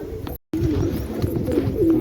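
Pigeons coo steadily and close by in a loft, their low rhythmic calls broken by a short silent gap, with faint background noise throughout.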